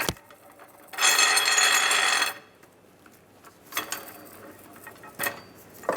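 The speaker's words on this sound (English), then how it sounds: "I'm just using a pull jack and I'm going to support the cradle" A pull jack is raised under the cradle of a 1998-2010 Volkswagen Beetle, giving a steady metallic ratcheting and clanking burst followed by scattered clicks and knocks, fairly quiet and without speech.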